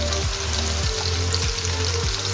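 Prawns sizzle and crackle in a hot pan, a dense steady frying hiss with a few soft low knocks as they shift, close and loud.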